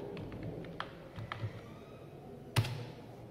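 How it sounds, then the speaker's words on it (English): A few sparse keystrokes on a computer keyboard, faint and spaced out in a quiet room, with one sharper tap near the end. "type Google."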